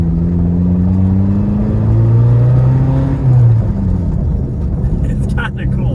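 A second-generation Volkswagen Jetta drives with its exhaust fallen off, giving a loud, continuous low engine drone and rumble that swells and shifts pitch as it revs.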